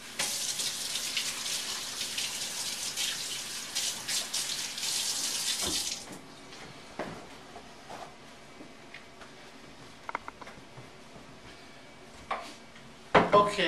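Hands being washed under a running kitchen tap, heard as a steady close-up rush of water for about six seconds, then quiet handling noises, small knocks and clatter.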